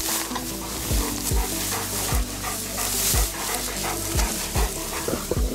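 Hunting dogs pant heavily and rapidly at close range after a wild boar hunt, a steady rough breathing rhythm with brief scuffs and knocks mixed in, and no one speaking.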